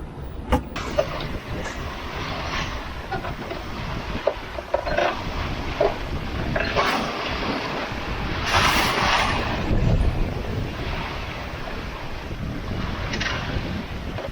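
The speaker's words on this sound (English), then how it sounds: "for the next maybe 6 or 7 miles we're gonna have these small waves, smallish waves that have been built up" A sailboat crossing small, smallish waves between Naxos and Amorgos in the Greek islands, with steady wind rush buffeting the microphone over hull and water wash, occasional louder splashes and knocks, continuous and close, no voices.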